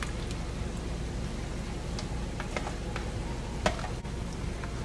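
Guajillo chile and garlic sauce hitting ground meat in a hot pan, giving a steady close sizzle and fizzing hiss with faint stirring scrapes and one brief clatter near the end.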